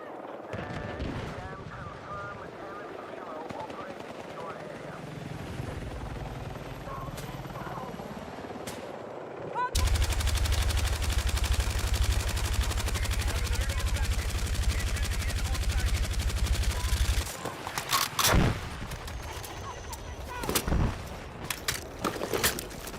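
Light machine gun fire in Battlefield 6 rattles in a sustained burst through the middle of the clip, mixed with helicopter rotor drone and game noise. Sharp individual shots come near the end, with a player talking over the action.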